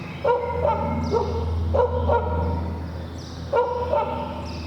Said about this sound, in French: Il continuait d'aboyer frénétiquement, comme hypnotisé par l'eau.